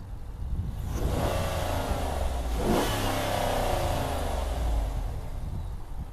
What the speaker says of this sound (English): Rev her up one more time.